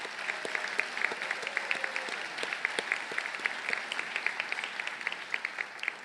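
Sustained applause from a large audience honoring graduates at a hooding ceremony, a dense steady wash of many hands clapping with sharper individual claps standing out, no voices.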